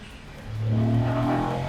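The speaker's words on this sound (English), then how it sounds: "It's by no means fast, but you really feel the urge and eagerness of the 660cc 3-pod engine." A Honda S660 with its tiny-turbo 660cc three-cylinder engine accelerates, the engine note rising in pitch as revs climb, heard up close and loud with no talk over it.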